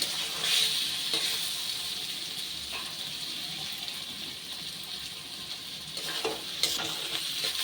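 Fish fat and oil frying with potatoes in a pan, a low steady sizzle broken by scraping spatula strokes as the mixture is stirred.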